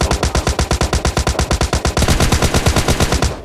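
Fast, loud bursts of automatic gunfire from PUBG Mobile Lite, a dense steady rhythm of close shots that runs without a break and then stops abruptly, with no talk.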